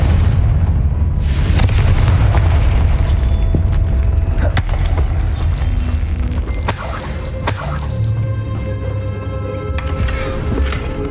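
Blasting-spell explosions from Hogwarts Legacy go off one after another, each a loud booming burst with crackling, shattering debris over a dense, rumbling game soundscape.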